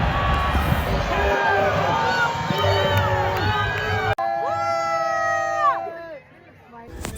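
Festival crowd at a Renaissance fair jousting arena yelling and cheering as knights pass, a dense roar of voices with shouts and whoops rising over the din before it thins out near the end.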